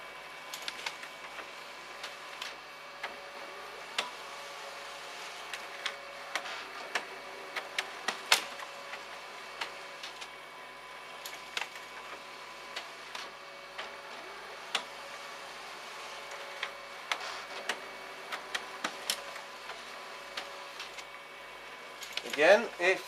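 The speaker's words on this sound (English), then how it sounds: "this should be a double-sided document that is duplexed" A Lexmark C544 colour laser printer duplexing a double-sided document, giving a soft, steady mechanical whir with repeated light clicks and ticks from the paper feed, fairly close and alone.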